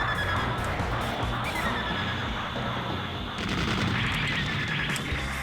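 Machine gun fire crackles in rapid bursts in the Mobile Suit Gundam: Federation VS. Zeon video game, dense and loud amid other game effects, with a brief lull before the shooting resumes.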